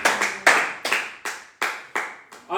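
A church congregation claps in unison to acclaim the Lord during a worship service: seven loud, close, evenly spaced claps, each ringing briefly in the room, with no talk.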